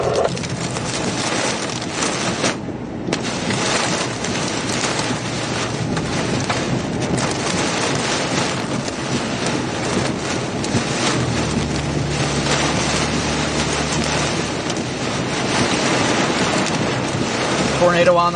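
Strong wind roaring during a tornado near Comstock Park, Michigan, a constant loud rushing buffeting the microphone for the whole stretch, with gusty surges and brief low rumbles.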